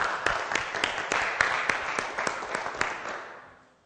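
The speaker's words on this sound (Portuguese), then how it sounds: "Vamos aplaudi-lo?" A church audience applauds pastor Gregório, a former police delegate, at a Quadrangular church. The clapping is brisk and fairly close, with sharp individual claps standing out, then it quickly fades away near the end.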